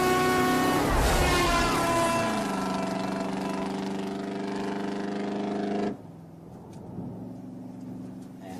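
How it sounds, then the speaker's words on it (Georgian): A car engine runs loud and close with a steady droning hum, its pitch sliding downward early on before the sound cuts off abruptly. "არა, მანქანა მოდის."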